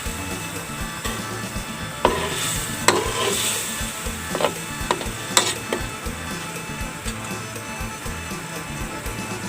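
Fish sizzling as it is stir-fried in a hot pan, a steady frying hiss with scraping and clinking strokes of a spatula every second or so, close and alone.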